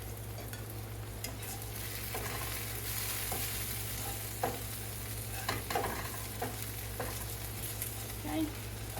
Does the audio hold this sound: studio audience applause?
no